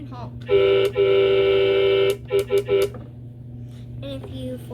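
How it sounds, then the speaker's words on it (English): A toy Napa semi truck sounds its electronic horn: two long, loud buzzy toots, then three quick short honks, over a low steady hum. "and it can honk."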